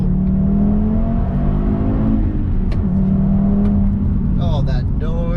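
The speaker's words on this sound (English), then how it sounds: "nice response to blip the downshifts." A vintage Audi from a heritage collection drives along a winding road in southern France, engine droning loudly from inside the cabin. Its revs rise and dip through gear changes, and a sharp rising blip comes near the end, while people speak over it.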